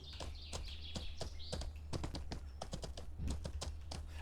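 Horse hooves clip-clop in the fantasy game Mortal Online 2 while riding toward a dungeon entrance, a steady run of sharp, close hoof strikes repeating rhythmically throughout.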